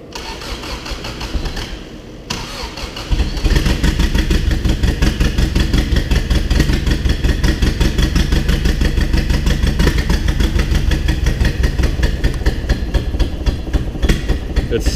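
A turbocharged backyard-built engine cranks and catches after a brief lull, then settles into a loud, rough, pulsing idle with no throttle, heavy low rumble steady to the end.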